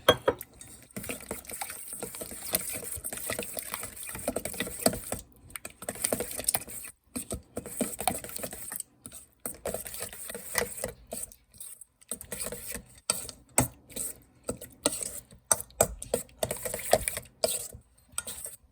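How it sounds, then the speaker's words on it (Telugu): Curd raita being stirred with a glass of water in a bowl, giving soft, irregular liquid clinks and scrapes in uneven bursts with short pauses, close and fairly quiet, with no talking. "1 గ్లాస్ వాటర్ పోసుకొని బాగా కలుపుకోవాలి."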